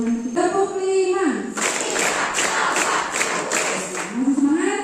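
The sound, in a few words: rhythmic group clapping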